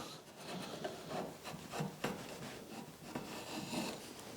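A draw knife shaves wood in close, repeated rasping strokes, each scrape a short rough swish in an uneven rhythm, alone without speech.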